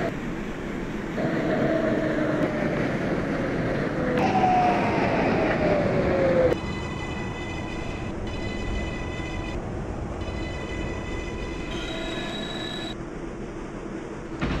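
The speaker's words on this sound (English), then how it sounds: "This is a Brooklyn Bridge bound 6th train." A New York City 6 local subway train running toward Brooklyn Bridge, with a loud steady rumble and rolling rail noise. Rising and falling motor whines, then a shift to a quieter, ringing tonal hum, with a chime-like tone near the end.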